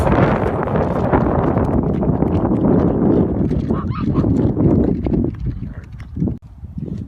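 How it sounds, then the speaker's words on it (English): Hooves pound in a fast, dense rhythm as several horses gallop past, loud and close, with the thundering fading slightly near the end. "Get set, go, horses!"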